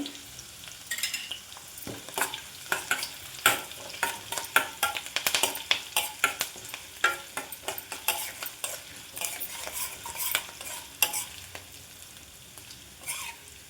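Tempering of dals, mustard seeds, cumin and green chillies crackling in hot oil with turmeric, under brisk spoon stirring: repeated close scrapes and clinks over a continuous sizzle.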